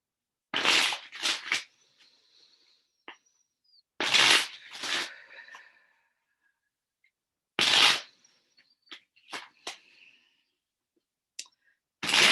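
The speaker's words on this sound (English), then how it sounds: "I need to shuffle the cards in a different way." Tarot cards shuffled in several bursts of riffling and flicking, separated by quiet pauses, close and crisp with no talking.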